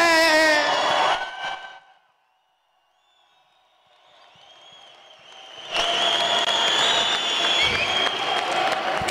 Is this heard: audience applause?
yes